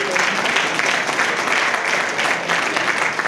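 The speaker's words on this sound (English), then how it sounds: "If you want to clap." An audience at a lecture applauds a professor with thick, continuous clapping that stays loud and even throughout.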